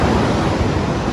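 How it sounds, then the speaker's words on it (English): Ocean surf breaks and washes against a rocky shoreline at El Zonte beach in El Salvador as the tide comes in, a dense, continuous roar of churning water with some wind, loud and close. "But these waves are incredible."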